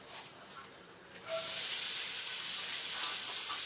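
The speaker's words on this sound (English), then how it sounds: "you can hear that sizzle" After a quiet moment, onions hit a hot pan and a bright, steady sizzle starts up and continues, close and fairly loud.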